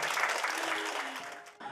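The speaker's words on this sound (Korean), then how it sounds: "큰 박수 한번 부탁드립니다" Audience at a school alumni reunion ceremony bursts into dense, close applause that holds steady, then tapers off near the end.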